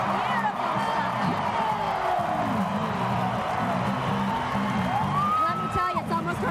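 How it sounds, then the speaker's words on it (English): An arena crowd at a 2008 NCAA women's gymnastics meet, Georgia at Utah, keeps up a loud, sustained roar of cheers and high whoops, with voices talking over the din. "the noise in here is deafening. This crowd wants Utah to win"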